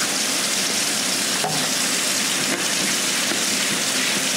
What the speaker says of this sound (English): And I just gently rub all over my mat.